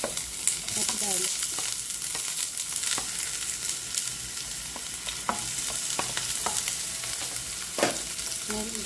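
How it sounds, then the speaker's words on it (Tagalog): Onion and garlic sauté in a little oil for sweet and sour shrimp, giving a steady close sizzle throughout with occasional sharp scrapes and clinks of a utensil stirring the pan. "Gisa natin yan hanggang sa bumangon."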